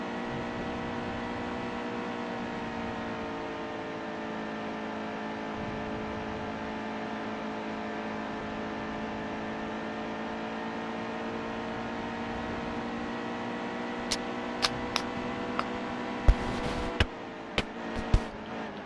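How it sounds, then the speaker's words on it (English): Race car engines in NASCAR Heat 2 drone steadily at a sustained, even pitch as a pack of cars rolls out together, with a few sharp clicks near the end. "52 cars roll out."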